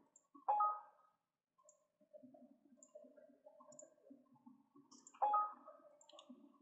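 Two crisp mouse clicks, one near the start and one later, stand out while files are saved in CATIA V5 design software, with faint soft clicking and quiet room noise between them.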